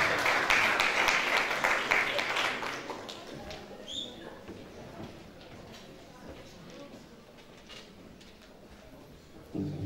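An audience at a Sportsman of the Year 2024 ceremony breaks into applause, loudest in the first few seconds and then thinning into scattered claps and background murmur.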